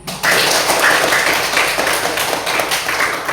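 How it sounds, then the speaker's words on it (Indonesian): Schoolchildren in a class applaud their classmates' presentation, with many hands clapping in a sustained, even burst that starts abruptly and stays loud throughout. "Baik, mari kita tepuk tangan sekali lagi atas presentasi kalian tadi."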